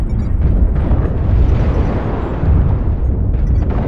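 Artillery strike in a MechWarrior video game: a dense, continuous rumble of overlapping explosions, loud and close for about four seconds.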